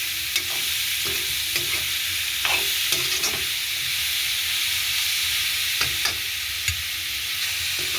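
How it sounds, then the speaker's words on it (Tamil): Onions and cabbage sauté in a pan, a steady sizzle broken by repeated scraping strokes of a spoon stirring them, close and fairly loud. "நல்ல வடிவாக வெங்காயமும் முட்டைகோசும் சேர்ந்து வதங்கி கொண்டு வருது"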